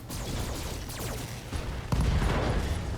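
Weapons fire from a BattleTech mech battle, unloaded into an enemy's unprotected rear arc: dense, continuous crashing and booming bursts, loud and close, with a heavy impact near the two-second mark that thickens the barrage.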